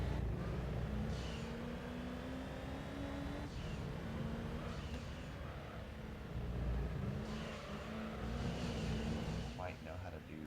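An Alfa Romeo race car engine in Gran Turismo 3 during an endurance race in Rome, a steady droning hum that rises and falls with revving, running under a player's talk.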